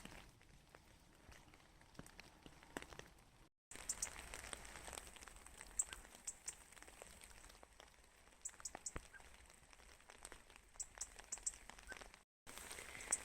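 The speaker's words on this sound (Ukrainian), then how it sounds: "дощик, співи робінців." Soft, scattered patter of light rain ticks and drips faintly outdoors in Belturbet, Ireland, steady and quiet, with a couple of brief silent gaps.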